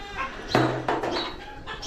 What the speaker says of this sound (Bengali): এই দেখতে পাচ্ছেন মুরগি